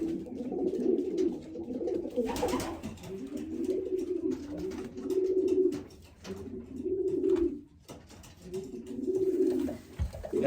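Racing pigeons cooing steadily in a loft, a cock bird among them, with repeated low throaty coos rolling in close, continuous waves and a brief flutter partway through.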